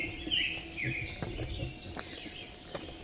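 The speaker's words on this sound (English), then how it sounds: "those robins sound amazing." Robins sing outdoors beside a river, soft chirps and whistled phrases at a distance, faint and intermittent against quiet background with scattered insect-like ticks.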